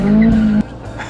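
A classic car drifts across a bridge, its tires squealing in a loud, steady screech for about half a second before giving way to engine and road noise.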